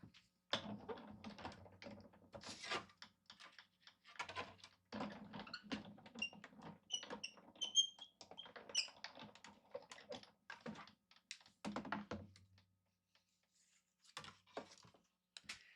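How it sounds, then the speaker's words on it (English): Paper pushed through a die cutting machine at a card-making desk, a run of dry clicking, tapping and crunching bursts with short gaps, close and moderately quiet. "Let me die cut that real quick."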